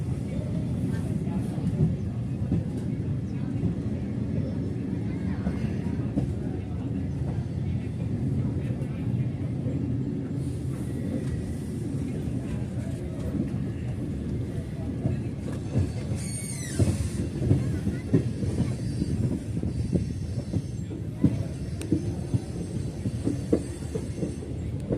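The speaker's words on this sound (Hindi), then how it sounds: "और ये हम लोग इंदौर उज्जैन जो मेमू ट्रेन है उसमें सफ़र कर रहे हैं।" Indore–Ujjain MEMU train running along a railway line, heard from inside as a steady rumble with rhythmic wheel clatter and occasional metallic squeals, continuous for the whole stretch, with faint voices in the carriage.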